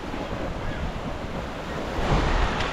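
Rough sea waves at a provincial shoreline, a constant close wash of surf and wind noise, swelling slightly louder near the end, with no voices.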